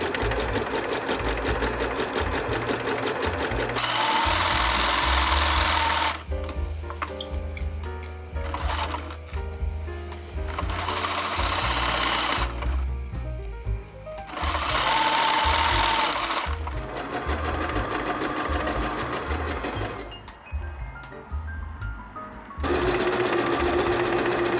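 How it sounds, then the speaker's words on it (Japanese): Domestic sewing machine running a three-point zigzag stitch along elastic for shorts, bursts of rapid mechanical chatter alternating with short pauses and quieter handling, close and loud. "印が合うようにゴムをセットして縫っていこう。 3点ジグザグミシンで縫っていこう。"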